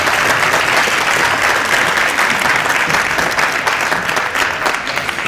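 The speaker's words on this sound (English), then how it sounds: "Have a big round of applause for the beginning band." Loud, dense applause from an audience at a beginning band demonstration night, continuous clapping that fills the room steadily from start to finish.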